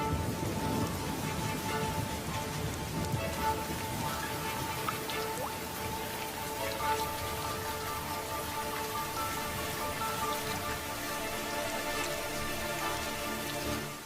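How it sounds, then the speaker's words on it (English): Monsoon rain falls on the highlands, a steady dense patter of drops on surfaces, continuous and even at moderate loudness, with no voices. "But when the monsoon clouds finally burst,"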